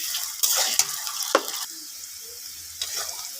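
Whole spices, cinnamon sticks, cardamom, cloves and torn bay leaves, being stirred in hot oil in a pan, giving a steady close sizzle with scraping stirs and a few clinks.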